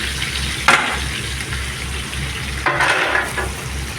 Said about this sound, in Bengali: এখন দিয়ে দেবো এর মধ্যে মানে সোরা তেজপাতা আর গোটা গরম মশলা।